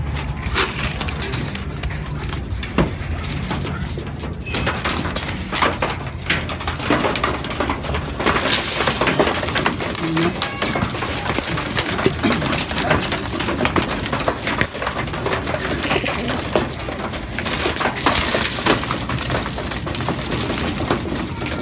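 Hungry pigeons feeding on scattered feed make a dense, continuous patter of pecking and scrabbling, with cooing and wing flutters mixed in, close and fairly loud throughout.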